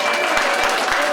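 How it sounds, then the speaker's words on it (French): A short burst of audience applause at a book festival speech in Colmars-les-Alpes, dense steady clapping filling the whole moment at close range. "Donc moi j'aimerais qu'on applaudisse Elisabeth qui est là."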